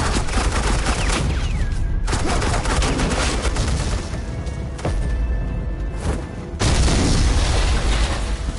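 Sustained gunfire from suppressing fire in the video game Batman: The Enemy Within bursts loudly and densely, with rapid shots and booms over a continuous roar and a heavy surge near the end.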